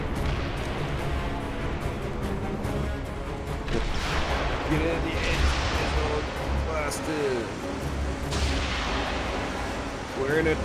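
Turret gunfire in James Bond: Blood Stone, a dense, rumbling barrage of heavy shots and explosions rolling on continuously, with someone talking over the noise.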